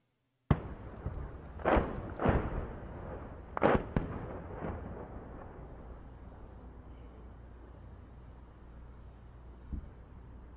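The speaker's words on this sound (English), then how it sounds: "We see MLRS rockets landing into the outskirts of Donetsk, most likely trying to hit military targets." MLRS rockets striking the outskirts of Donetsk: a sudden sharp blast followed by several more heavy distant booms in quick succession, then a long rumbling tail and one faint later thud.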